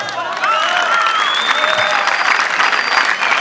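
Audience applause at a school traditional performance, steady and fairly loud, with a few faint overlapping voices and tones running through the clapping.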